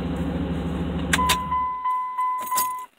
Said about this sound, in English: Truck, shut up. Can't stand that dinging.